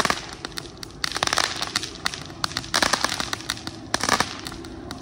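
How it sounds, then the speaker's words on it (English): A firework fountain with a silver flower effect sprays continuously, hissing and crackling with dense bursts of sharp pops that swell and fade, close and fairly loud with no talk. "This fountain has a very cool little flower, silver flower effect."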